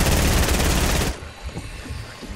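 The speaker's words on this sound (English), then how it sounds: "I'm shooting the chug." Gunfire in a video game: a dense, loud burst of rapid shots that cuts off abruptly, followed by scattered quieter shots and thumps.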